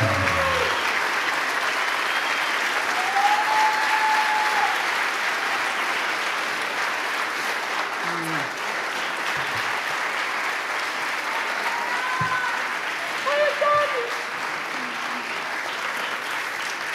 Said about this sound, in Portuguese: Uma salva de palmas enorme para ele, por favor.